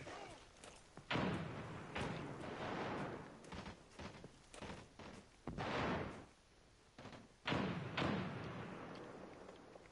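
Explosions from a thrown frag grenade in a PS4 shooter game, several heavy booming thuds spaced a few seconds apart with long rumbling tails, loud and close amid constant gunfire-like clatter.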